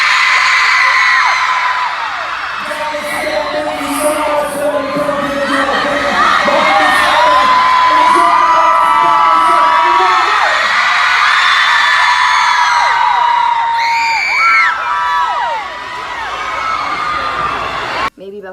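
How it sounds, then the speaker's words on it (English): A dense concert crowd at a show in Dallas screams loudly and continuously for the band, with piercing high-pitched shrieks and cheers layered over each other for the whole stretch before cutting off abruptly. "everyone started screaming really loud"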